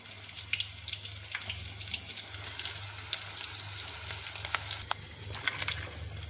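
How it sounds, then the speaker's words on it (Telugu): Eggs boiling in a pot, a continuous bubbling and watery simmer heard close and fairly loud, with occasional small clinks and pops and no talking. "ఇక్కడైతే ఎగ్స్ అయితే ఉడుకుతున్నాయి ఫ్రెండ్స్"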